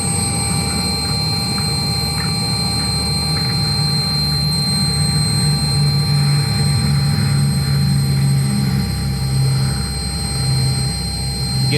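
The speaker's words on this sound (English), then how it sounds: "You can hear the roar of the engines." Steady, loud droning roar of a B-17G bomber's piston engines in flight, a constant heavy rumble with a sustained low hum and steady tones, unbroken for the whole stretch.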